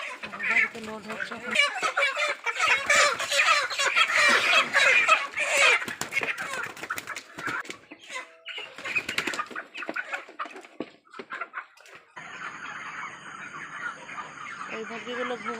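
Many poultry chickens in a farm shed cluck and squawk loudly and close by during loading, with bursts of wing flapping and a calmer stretch near the end.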